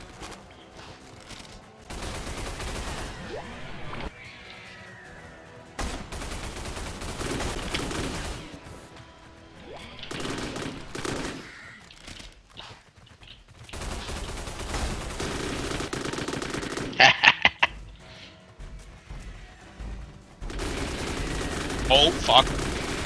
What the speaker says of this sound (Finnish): Ui vittu, haulikko on hyvä. Putoo yhdellä laukauksella.